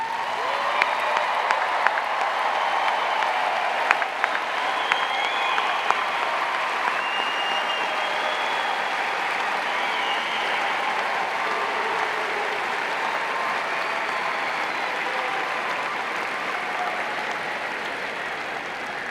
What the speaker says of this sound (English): please stand so we can applaud your accomplishments